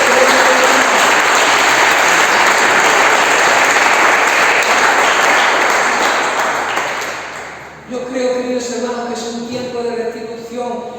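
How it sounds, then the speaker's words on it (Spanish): Loud, sustained applause from a church congregation fills the space for about eight seconds, then fades as a voice and music continue. "Fuerte el aplauso al Señor"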